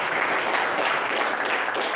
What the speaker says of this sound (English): So I will give you an applause for that.